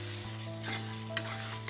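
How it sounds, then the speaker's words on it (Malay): Onions sizzle and fry in a pan while being stirred, a steady close crackle punctuated by a few scraping strokes, with no talking. "Kacau dan biarkan bawang sedikit layu."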